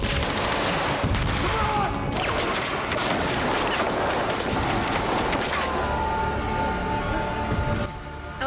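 Dense gunfire in a night scene from The Walking Dead, rapid overlapping shots and bursts forming a loud continuous barrage with crashing debris, easing slightly near the end.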